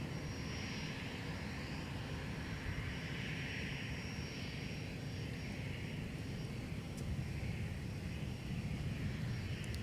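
A Delta Airbus A321 touching down at Minneapolis after a flight from Salt Lake City makes a faint, steady jet engine drone with a thin high whine riding on top, and no one speaks.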